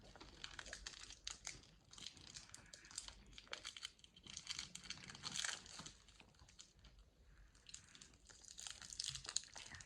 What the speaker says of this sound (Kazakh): Достар, мен енді кеткат ашамын.